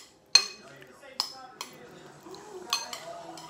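A utensil clinks and scrapes against a dish as food is mixed, with several distinct knocks spaced over a few seconds against a quiet background.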